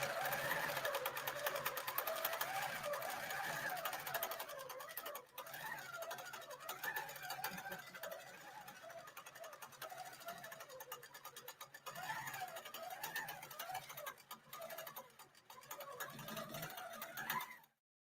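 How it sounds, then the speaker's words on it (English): A longarm quilting sewing machine stitching around a quilt border, started with a hand controller: a steady close mechanical whir and rapid stitching chatter that runs unbroken for about eighteen seconds, then stops abruptly, with no talking. "I'm turning it on with the hand controller. And we'll just get her started."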